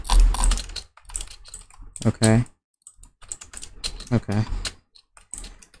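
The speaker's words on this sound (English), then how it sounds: "I pretty much hope that you guys, you know, can hear me drag clicking" Rapid drag clicking on a computer mouse during a Bloxd.io game: sharp, irregular bursts of clicks come close to the microphone, mixed with a person talking.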